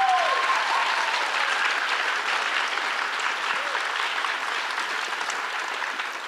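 An awards ceremony audience at the YAGP 2022 ballet semi-finals in Salt Lake City claps for the dancers, a steady, even roar of applause that stays full throughout and eases off only slightly at the close.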